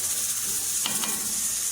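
Hot tempering sizzles steadily as it is poured into a roasted-coconut chicken curry, a constant frying hiss with a couple of brief crackling bursts partway through.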